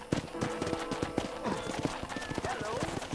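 Horse hooves clip-clop in a brisk, steady rhythm, loud and close, with a busy, dense backdrop around them, in the video game Red Dead Redemption.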